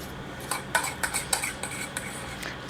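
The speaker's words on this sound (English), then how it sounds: "Sorry for the scraping noise." A utensil scrapes and clinks against a bowl while no-bake eclair cake filling is mixed. The strokes are close, moderately quiet and irregular, over a low steady background.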